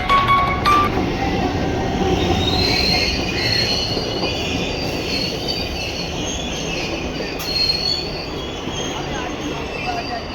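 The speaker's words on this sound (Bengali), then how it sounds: "ট্রেনটা মনে হচ্ছে দেখা দিয়েছে অলরেডি ট্রেন চলে আসছে" A train rolls into a railway station, its steady rumble and rattling wagons loud and close, with high wheel squeals rising over the noise throughout.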